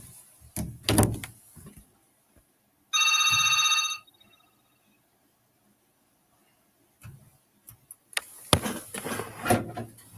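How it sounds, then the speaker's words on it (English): A telephone rings once in a steady electronic burst of about a second, set between door and handling noises with quiet gaps around it. "Munyamba, seems like we have a phone call."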